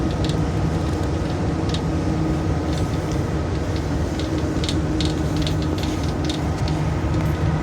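A freight train rolls past in a continuous, fairly loud rumble, its wheel and wagon noise steady throughout with occasional sharper clanks.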